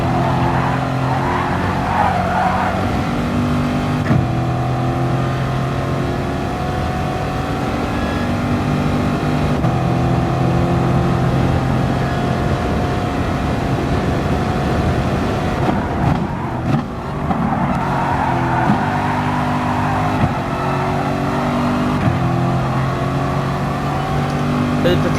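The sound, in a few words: race cars racing, video game Gran Turismo Sport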